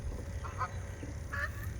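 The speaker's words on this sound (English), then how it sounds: "Oh, there's the geese." Geese honk a few times in the distance over a steady low background rumble, brief nasal calls rising faintly above the ambient noise outdoors near ducks.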